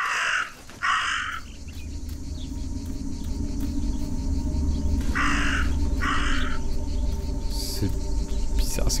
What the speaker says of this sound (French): Enfin, je vais pas suivre un corbeau.